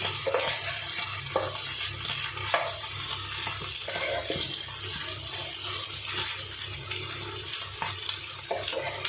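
Egg frying in a pan of dry goat meat curry, a steady close sizzle with scraping and stirring strokes recurring throughout, no voices.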